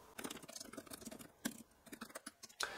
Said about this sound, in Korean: 이렇게 타이핑을 손쉽게 할수 있습니다